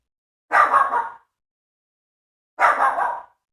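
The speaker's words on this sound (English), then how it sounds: "It's my dog barking because it's the trash man." A dog indoors barks twice at the trash collector, two short, sharp yapping bursts separated by about two seconds of silence, fairly close and moderately loud.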